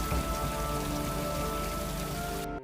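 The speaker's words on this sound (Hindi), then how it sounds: "लेकिन तभी तेज बारिश होने लगी" Heavy rain pours down in a dense, even roar of drops striking surfaces, close and constant before cutting off abruptly at the end.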